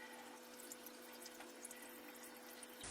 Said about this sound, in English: I'm now washing out the dye with the shower.